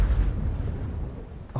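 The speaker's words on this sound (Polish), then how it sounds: "ale wybuch" A loud explosion in a LEGO Movie scene, a heavy low boom that rumbles and slowly decays over about a second and a half.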